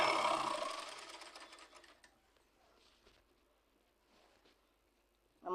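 A sewing machine stitching falls onto a saree runs in a brief, fast burst at the start, then fades to quiet, faint mechanical clicks and handling noises.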